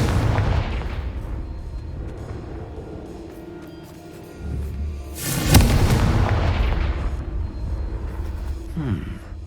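Confringo fire spell explosion in the video game Hogwarts Legacy, a sudden loud booming blast that rises out of a low rumbling ambience and then decays into a lingering roar.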